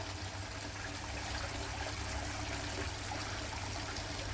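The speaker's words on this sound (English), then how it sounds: "Nice little pitter patter of the water." Water from a garden waterfall trickling into a fish pond outdoors, a soft, steady, even wash of splashing with no breaks, faint and constant throughout.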